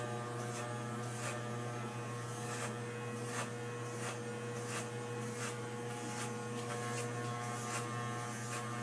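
Electric hair clippers fitted with a guard buzz steadily while cutting a military-style fade, a constant mains-pitched hum with regular rhythmic swishes as strokes pass through the hair, close and alone.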